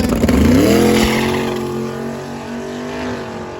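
Twin-turbo LS-swapped Camaro, running without a radiator, launching down a drag strip on a cool evening track, a loud harmonic engine roar that rises in pitch and then holds steady as the car pulls away.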